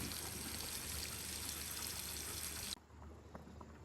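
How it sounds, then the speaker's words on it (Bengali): Pieces of rohu fish fry in a pan on a home stove, a dense, steady sizzling hiss that runs unbroken for nearly three seconds, then drops to a quieter background. "মাছ ভাজছি আর একে ভাত বসিয়ে দিলাম।"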